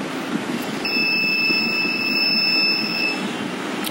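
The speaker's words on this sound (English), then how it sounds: "this 4 is a buzzer" An electronic buzzer on an appliance control board sounds one continuous high-pitched tone for about two seconds, close and clear over a low steady background hum.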